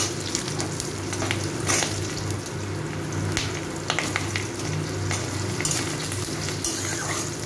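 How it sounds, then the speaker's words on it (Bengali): Cut potatoes frying in hot oil in a pan, with bay leaf and cumin seeds tempered for a vegetarian cabbage dish; a steady, close sizzle with small crackles continues without talk. "আমি আলুটাকে একটু 2-3 মিনিট ধরে একটু ভেজে নিচ্ছি।"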